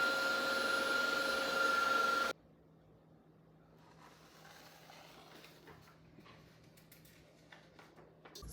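Electric hand mixer beating pumpkin roll batter with pure pumpkin, a loud, steady motor whir close by that cuts off abruptly after about two seconds, leaving quiet kitchen clatter and light scraping.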